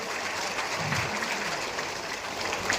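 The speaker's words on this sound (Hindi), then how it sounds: "जोरदार तालियों से आदरणीय राजनाथ सिंह का स्वागत करें।" A rally crowd gathered for Union Defence Minister Rajnath Singh claps in a steady, dense wash of applause that holds at an even level throughout, with no talk over it.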